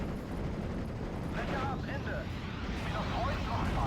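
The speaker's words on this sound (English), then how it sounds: "Beautiful airstrike." Airstrike explosions in Steel Division: Normandy rumble as one continuous, heavy, booming wash of blasts with no clear gaps, and faint voice-like sounds drift over the din.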